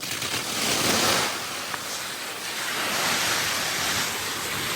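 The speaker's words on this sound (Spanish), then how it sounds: "lo que vamos a hacer es rociarla con agua, con una manguera, con más presión, con menos presión" A garden hose sprays water over a motorcycle outdoors, a loud, steady hiss of spray and splatter that swells and eases slightly as the stream moves, with no talking.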